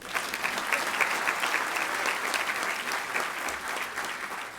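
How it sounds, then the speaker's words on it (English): Audience applause at an awards banquet, a steady wash of many hands clapping in a large room, moderately distant and sustained throughout without any talking. "You may applaud again."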